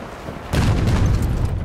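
A sudden loud boom of video game gunfire breaks in after a quiet lull, followed by a sustained rumbling burst of shots and echoes.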